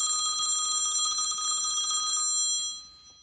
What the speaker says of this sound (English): Oh, it's my cell phone.